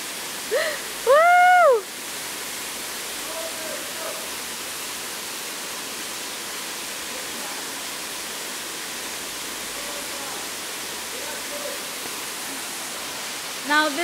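Kantalampo waterfall in Bali roars as a steady, dense rush of falling water throughout, with a brief whistle-like sound and other faint sounds near the start and voices barely surfacing under the noise.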